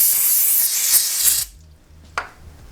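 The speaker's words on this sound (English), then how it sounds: "so just get a little bit of brake cleaner" Brake cleaner sprayed from an aerosol can during an oil change on a Honda CRF450L/X motorcycle, a close, steady, loud hiss lasting about a second and a half, then stopping, followed by a faint clink.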